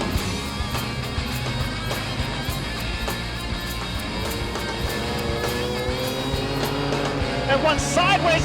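Sprint cars race around a dirt oval at a night Speedweek final, engines roaring in a dense, continuous wall of sound with a louder car passing near the end.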